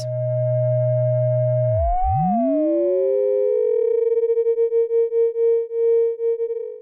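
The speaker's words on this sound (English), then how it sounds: "The ring modulator output by default produces the ring modulated product of oscillator 1 and 2's sine wave outputs." Two steady electronic sine tones from a Pittsburgh Modular Voltage Lab 2 synthesizer sweep and converge into a single pitch that begins to pulse with a fast, wobbling tremolo, a classic ring-modulated synth effect.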